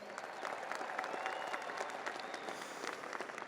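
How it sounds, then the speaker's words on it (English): Audience applause at a winter graduation commencement, a steady wash of many hands clapping, fairly faint and distant throughout. "Can we give them another round of applause?"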